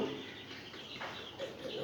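Chickens clucking softly nearby while being given water, a faint, low murmur of short fowl calls over a muffled background with no clear speech.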